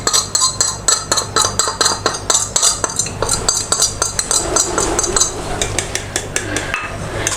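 Eggs being whisked in a bowl with salt and chili powder for a potato-and-egg bhujia, a fast run of sharp metallic clinks and taps from a utensil against the bowl, close and steady throughout.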